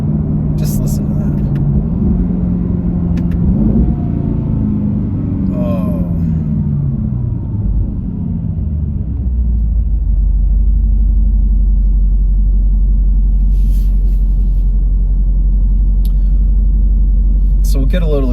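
A 2025 Aston Martin Vantage's V8 engine rumbles low and heavy under acceleration, its deep drone swelling and settling while someone speaks briefly over it.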